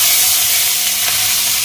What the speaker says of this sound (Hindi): तो यहाँ पर आलू राजमा की सब्जी छौंक दी है